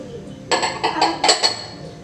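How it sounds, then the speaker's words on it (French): A utensil clinks and scrapes repeatedly against a bowl while vegan lemon tart filling is stirred, several sharp bright knocks in quick succession over a quiet background. "On va mélanger."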